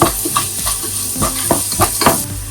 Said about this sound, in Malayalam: സവാള നന്നായി വഴലുന്നത് വരെ നമുക്ക് ഇളക്കി കൊടുക്കാം.